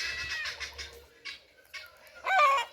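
Chickens feeding on a small vegetable farm cluck softly in a few short bursts at close range, with faint background noise and no talk.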